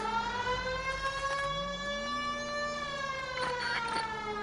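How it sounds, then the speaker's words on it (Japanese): Police car siren in the video game L.A. Noire, a steady rising and falling electronic wail that holds loud and clear throughout without any talking. "イラッとしたサイレン鳴らせばどいてくれるから。"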